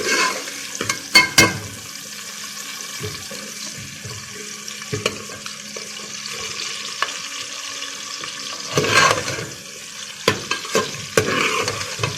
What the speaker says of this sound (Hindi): सबसे पहले हम इसमें लहसुन डाल देंगे और इसको थोड़ा सा हिलाएंगे।